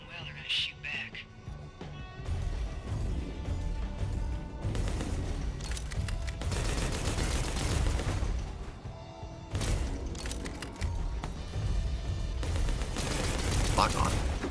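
Gunfire in a video game shootout from Arizona Blues (Bounty Star), repeated loud shots and crashing impacts over a steady game soundtrack, with a voice briefly heard.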